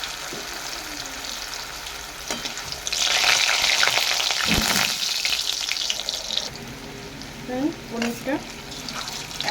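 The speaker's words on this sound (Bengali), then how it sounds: "তেলটা গরম হয়ে গেছে আমি পনিরগুলো ভেজে নেব" Paneer pieces frying in hot white oil, a loud sizzling hiss that swells for several seconds in the middle, with lighter spattering and a few clinks of utensils before and after.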